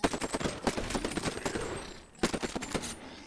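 The Alternator submachine gun in Titanfall VR fires in rapid, close bursts, with a short pause partway through before another quick volley.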